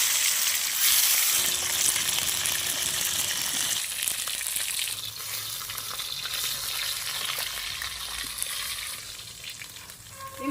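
Shankar fish (stingray) frying in hot oil, with a dense, loud, continuous sizzle and crackle of the skin, close up, settling slightly toward the end.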